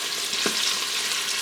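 Sausage sizzling and crisping in an Instant Pot, a steady close hiss of frying fat with a quick stirring scrape partway through.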